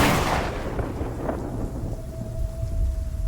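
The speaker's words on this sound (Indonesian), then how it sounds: "Sambil terdengar rintik-rintik hujan di atas atap disertai angin kencang." Steady rain and gusting wind against a roof ahead of a heavy downpour, a dense continuous roar with low rumbling that sounds like distant thunder, loud throughout, with a faint steady tone entering partway through.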